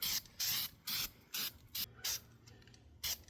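Spray paint can laying a light first coat onto Polaris plastics, with seven or eight short hissing bursts in a steady on-off rhythm, close and fairly loud, no talking.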